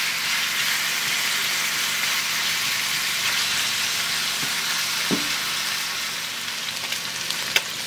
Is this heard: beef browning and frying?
yes